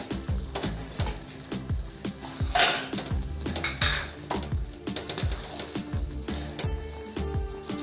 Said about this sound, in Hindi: अब हम इन सारी चीजों को अच्छे से मिक्स कर लेते हैं।